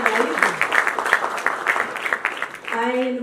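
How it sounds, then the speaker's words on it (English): Audience applause at a live app launch event for a CPR app with Kajol, a dense crowd clapping steadily under loud talk and cheering. "let's give Kajol a big round of applause before we launch the app with her live"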